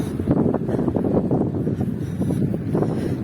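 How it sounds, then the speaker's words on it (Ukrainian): Gusty wind in a tulip garden buffets the microphone with a constant low, rough rumble that rises and falls in loudness throughout. "Вітер, звісно."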